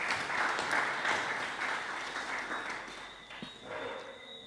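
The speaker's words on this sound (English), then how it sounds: "A round of applause for her" A room audience at a disability council event in St. Paul's, Grenada, gives a round of applause, moderate clapping that slowly fades toward the end.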